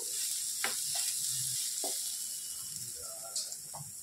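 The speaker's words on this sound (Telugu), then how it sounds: "ఫ్రై అనేది మధ్య మధ్యలో వేపుకుంటూ ఫ్రై చేసుకోవాలి." Sliced radish fries in a hot pan with salt, a steady close sizzle running throughout, broken by several brief scraping stirs of a spatula.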